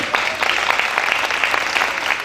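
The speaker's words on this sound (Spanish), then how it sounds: "para muchos músicos yo pido un aplauso" Festival audience applause for a musician, a brisk burst of many hands clapping together, dense and fairly loud, heard alone for a couple of seconds.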